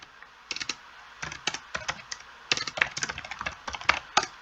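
Crisp keystrokes come close up from a computer keyboard as terminal commands are typed, irregular clusters of sharp clicks with short gaps, and no voice.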